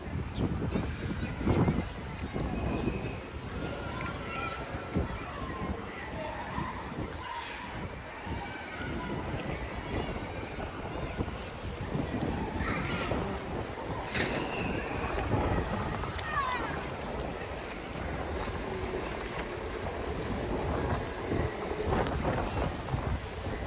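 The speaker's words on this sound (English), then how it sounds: "Right now it's very windy." Strong cold wind rushes through Ibiza town in January, a continuous low roar buffeting the microphone with faint background sounds and no clear speech.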